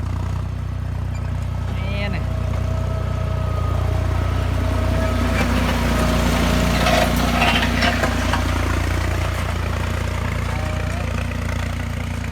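A John Deere 5065E tractor reversing in high gear while pushing soil, its diesel engine holding a loud, steady rumble throughout as someone talks over it.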